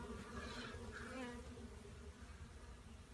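A dense, steady hum of many bees buzzing at a beehive removal job in Los Angeles, continuous and fairly close with no voices.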